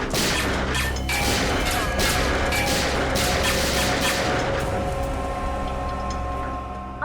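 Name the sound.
gunshots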